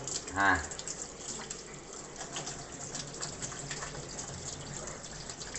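Water is poured over a printing screen to rinse off expired screen-printing emulsion, making a continuous soft splashing gush with a brief voice near the start.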